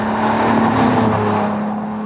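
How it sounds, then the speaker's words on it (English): A 255-horsepower 3.2-litre V6 in an Audi A4 hums steadily at a constant pitch while driving, loud and close, with no one speaking. "it gets a 255 horsepower V6 that delivers a very usable 243 pounds-feet of torque"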